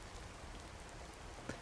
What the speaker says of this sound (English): it's raining now, so I shouldn't worry too much about water anymore. Beautiful, beautiful rain.